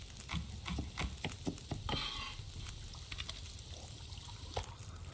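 Water is poured while cooking broth in The Long Dark, with a soft trickling, sizzling stream and scattered small clicks, faint and continuous.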